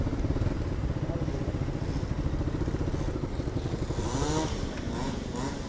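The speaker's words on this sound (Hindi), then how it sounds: "हमने ये वाली गाड़ी का साउंड सुना, बहुत ही प्यारा साउंड था।" A small mini bike engine with a throaty two-stroke character like a Yamaha RX100 idles and revs nearby in traffic, a steady pulsing putter with clattery rattles and a brief rising rev near the end.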